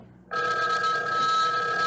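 An old telephone bell starts ringing after a quiet moment, a loud continuous metallic trill that holds steadily to the end.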